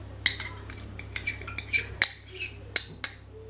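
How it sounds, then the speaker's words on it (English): A spoon scrapes and taps inside a cut aloe vera leaf while scooping out the gel, giving a series of sharp clinks and scrapes at uneven intervals, close and clear over a low hum. "get a spoon, just scoop the rest of that aloe vera out"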